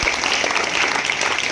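Audience applause for a young performer at a magic-or-science show, a brief dense patter of many hands clapping at even loudness.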